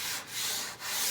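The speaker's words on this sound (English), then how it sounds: "And yeah, more sanding, a lot of sanding." Steady abrasive rubbing of sandpaper on reclaimed oak, continuous with two brief dips as the stroke changes direction, close and fairly loud.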